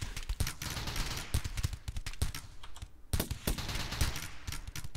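Dense, rapid gunfire during a colony firefight in RimWorld, with many sharp overlapping cracks and bursts in quick succession that pause briefly near the middle and then start again, fairly quiet overall.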